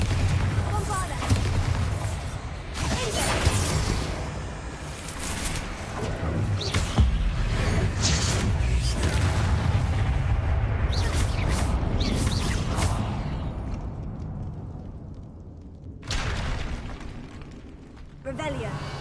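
Bombarda and Confringo spell blasts in Hogwarts Legacy, a run of loud explosive bursts and crackling impacts one after another, with rumbling tails and a brief pause before a final blast.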